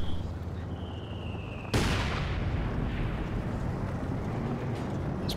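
A single heavy mortar blast from the strategy video game Company of Heroes 2, a sudden loud boom that rolls out into a long rumbling tail over constant battlefield noise, with no talking.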